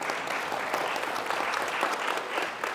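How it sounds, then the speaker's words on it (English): A live audience at a university business event gives a steady, dense round of applause. The clapping sounds close and full and continues evenly throughout. "let's give him a round of applause"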